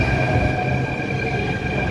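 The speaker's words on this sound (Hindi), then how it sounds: "आ गई अपनी मेट्रो" A Delhi Metro train pulls into a station with a loud, steady rumble and a sustained high electric whine that holds for the whole two seconds. No one speaks.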